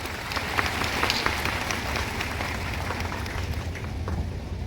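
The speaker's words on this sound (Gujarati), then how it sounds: "પણ તમે તમારા પોતાના માટે તાળીઓ વગાડો એવી મારી ઈચ્છા છે." An audience at a centenary celebration in Pune, attended by Gujarat Chief Minister Bhupendra Patel, claps for itself: dense, sustained applause from a large crowd that holds steady for several seconds without anyone talking.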